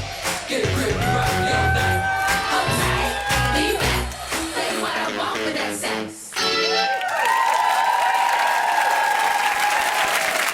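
Audience at the Strictly Come Surrey 2019 live show applauding the cast, a loud, steady wash of clapping mixed with music, with whoops and cheers rising near the end.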